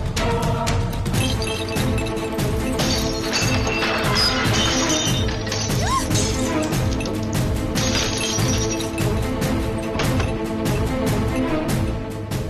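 Glass smashes and shatters in a dramatic indoor scene, repeated sharp crashes and tinkling shards over a busy, loud background of music and clatter lasting several seconds.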